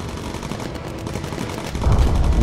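Bomber gunners shooting in the WWII game Bomber Crew: dense, rapid machine-gun bursts over a constant engine drone, growing heavier and deeper near the end, with no speech.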